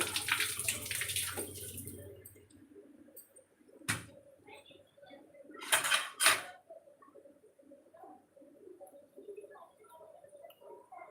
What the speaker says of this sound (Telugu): ఒక ఆనియన్ తీసుకొని దీన్ని శుభ్రంగా కడుక్కోవాలి